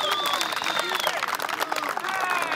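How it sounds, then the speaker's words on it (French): Audience applause at a ceremony, sustained clapping from a crowd with whistle-like tones and some voices mixed in across the whole stretch. "monsieur, vous pouvez l'applaudir"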